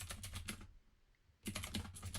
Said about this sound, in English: if you just want to write the address or your login